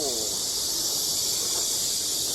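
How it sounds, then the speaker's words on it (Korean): Loud, continuous buzzing chirr of cicadas fills the air beside an apartment street crossing, a dense steady drone with a faint low rumble beneath. "매미 소리도 많이 들리고"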